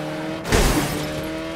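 A brief whooshing burst of a car engine and rush in the video game Saints Row, rising sharply then settling into a steady hum.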